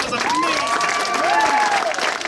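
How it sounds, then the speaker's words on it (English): A concert audience at a music camp claps for the orchestra, steady applause with a few voices calling out over it, brief and moderately loud. "let's give our orchestra another round of applause, please"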